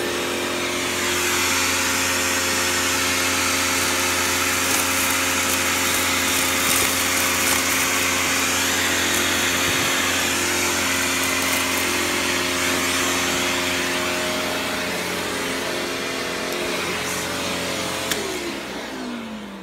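A Panasonic Jet Flo upright vacuum cleaner runs steadily and loudly for the whole stretch, a constant high motor whine with a rushing airflow roar and a slight shift near the end.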